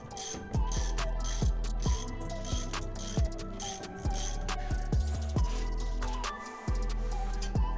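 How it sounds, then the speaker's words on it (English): Ratchet tightening a 17 mm bolt on a Subaru STI differential bushing, a close series of rhythmic clicking strokes repeated about a dozen times with brief pauses. "I'm going to go ahead and tighten down the 17 millimeter bolt"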